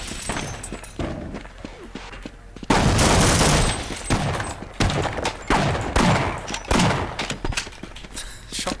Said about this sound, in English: Shotgun sounds so flimsy in the old models.